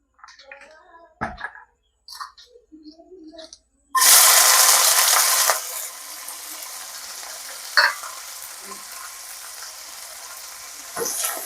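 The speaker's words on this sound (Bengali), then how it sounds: "আমরা সরষের তেল দিয়ে প্রথমে চিংড়ি মাছগুলো ভেজে নেব" Prawns hit hot mustard oil in a home kitchen and burst into a loud sizzle, which settles into steady frying with a few clinks. Quiet handling noises come before it.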